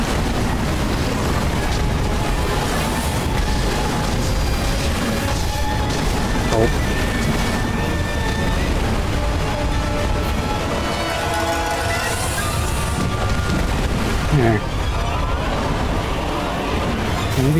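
Fireworks burst in the video game Sekiro amid a dense wall of game noise, with rumbling booms and crackles running throughout while players talk over them.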